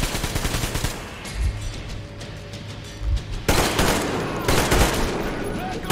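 Bursts of automatic gunfire and single shots in the video game Metro Exodus, with loud rapid volleys near the middle and end, over a low rumbling game soundscape and a man's occasional speech.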